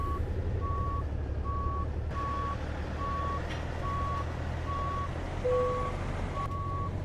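A truck reversing with a trailer in American Truck Simulator gives a steady series of evenly spaced reversing beeps over a low, constant engine rumble, with no one talking.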